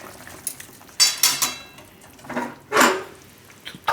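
Cooked pumpkin soup scraped and poured from a pot into another vessel on a home kitchen stove, heard as several close, scraping clinks of a utensil against metal in short bursts, with no talking.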